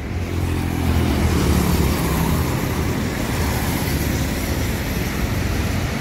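Heavy vehicle engine roar and road noise, loud and steady, as a large intercity bus moves through traffic close by in Aceh.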